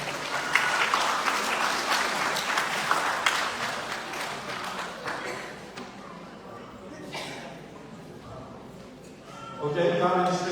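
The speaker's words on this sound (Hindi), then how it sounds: "एक जोरदार ताली इस परिवार के लिए हो जाए" An audience claps loudly and steadily for a family at a Hindu Ram Katha gathering; the dense applause fades after about six seconds into quieter crowd noise and a nearby voice.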